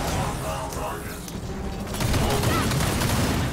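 Gunfire from Watcher robots in Gears of War 4, a dense rattling burst of shots mixed with mechanical clatter that grows louder and fuller toward the end, with a voice speaking over it.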